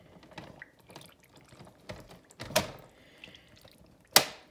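Tea water drains from swollen, tea-soaked paper in faint trickles and scattered drips, with a couple of sharper splashes and no talking.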